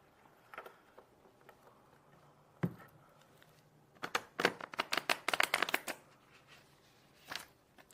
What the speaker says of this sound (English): You could take these and shuffle them 3 times for me,